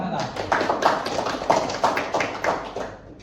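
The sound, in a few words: applause, clapping hands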